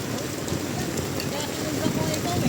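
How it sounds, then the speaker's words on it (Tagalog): Heavy rain pours down steadily in a dense, constant patter during a stormy outing by an ice cream vendor, while people talk in the background. "Ulan, maulan eh."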